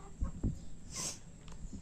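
A few short, soft chicken clucks close by, with a brief burst of noise in the middle, fairly quiet overall.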